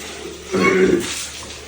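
Water is poured over a small child in a bath, a single short splash and gush rising midway and then fading back into quiet room tone.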